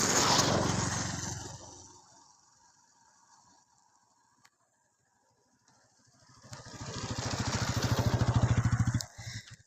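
Launch boat engine droning on Roumari beel, a lake in Jamalpur: a loud low rumble fades to near silence mid-clip, then swells back up close and strong before cutting off.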